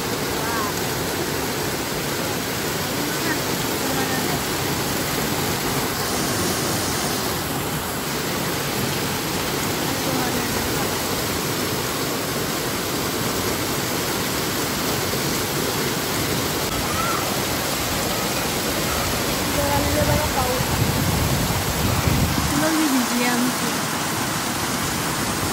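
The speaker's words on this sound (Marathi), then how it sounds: "पाणी बघा किती जोराने आले" Water rushing hard in a loud, steady broadband roar that lasts the whole time, with a faint voice briefly audible near the end.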